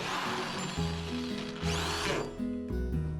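A power drill whines and labors in uneven pulses as it bores into wood, its pitch shifting as the motor strains, close by.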